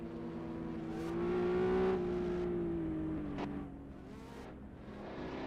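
Several race cars labor up a hill at the Lakeside Castle track, engines droning and revving steadily near the listener, one rising then easing off, with no talk over them.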